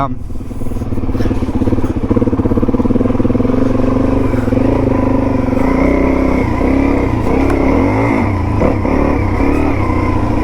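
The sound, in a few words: Suzuki DRZ400E motorcycle engine revving while riding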